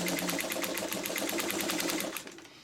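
A sewing machine runs fast and steadily while stitching through the center of a quilt, its rapid even needle clatter close and loud before slowing and stopping near the end.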